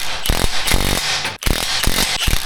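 A wrench cranks a bolt down tight against a lock washer, giving steady ratcheting clicks and grinding mechanical turns, loud and close, with a brief pause partway through and no talking.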